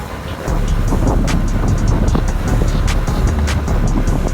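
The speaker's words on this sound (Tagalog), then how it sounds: "Bilis ng sasakyan dito." Fast vehicles rushing past on a road beside a bridge, a loud continuous roar of traffic with wind buffeting the microphone and a few sharper passing surges, no talk.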